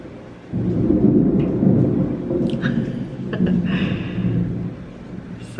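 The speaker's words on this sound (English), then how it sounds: "You might get to hear some thunder here." Afternoon thunderstorm with a deep, rolling rumble of thunder that swells and fades over several seconds, steady rain beneath it and a few faint higher sounds from nearby.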